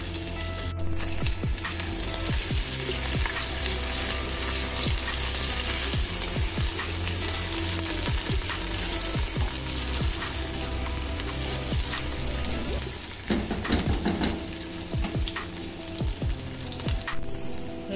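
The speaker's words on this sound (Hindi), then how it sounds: "लहसुन अदरक अच्छे से फ्राई हो चुका है।" Garlic ginger paste frying in a pan for an egg and potato curry gives a steady, close, loud sizzle that runs the whole time, with occasional scrapes from stirring.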